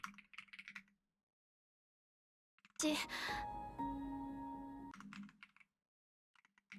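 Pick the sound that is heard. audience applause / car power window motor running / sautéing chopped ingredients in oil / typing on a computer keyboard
typing on a computer keyboard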